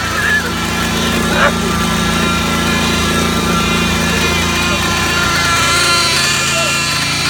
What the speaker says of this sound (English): I'm here breaking in a new motor.